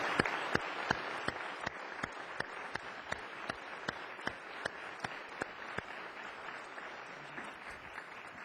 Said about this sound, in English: let's have a round of applause for our advocates